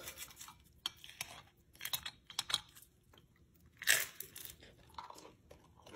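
Sharp, close crunches as crisp food is bitten and chewed, several brittle snaps in quick succession with quiet pauses between.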